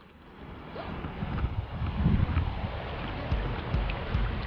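Choppy seawater at a seaside in Mahboula, Kuwait washes and churns steadily, a broad rushing wash mixed with wind buffeting the microphone, swelling slightly partway through and continuing without pause.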